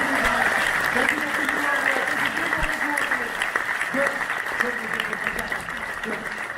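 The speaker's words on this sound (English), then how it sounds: "Give him a big round of applause." An audience at a magic show breaks into steady, dense applause that fills the whole stretch at close range and stays loud, with a voice talking faintly over it.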